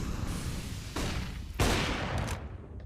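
Gunfire in the video game Counter-Strike, a few sharp bursts of shots with booming tails at about one and one-and-a-half seconds over a low background rumble.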